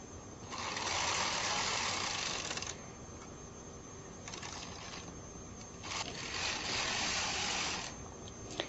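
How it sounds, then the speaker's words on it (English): Knitting machine carriage pushed across the needle bed to knit a row of yarn, two loud rasping sweeps with a quieter pause between, close and free of talk. "then drop the yarn and knit the row. Always use 2 hands on the carriage."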